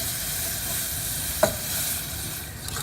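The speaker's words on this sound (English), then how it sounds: "ooh, that sizzle." Steady sizzling and hissing as milk is poured into a hot pan of cooked roux for nacho cheese sauce, with a brief clink of utensil against the pan midway and no talking.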